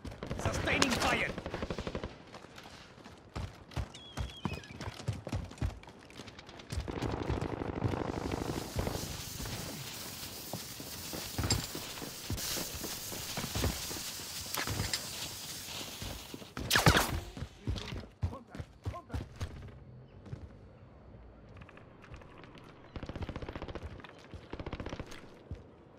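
Bursts of rapid automatic gunfire from Call of Duty: Modern Warfare multiplayer, loud and close, with dense volleys, brief pauses and scattered single shots and footsteps across the stretch.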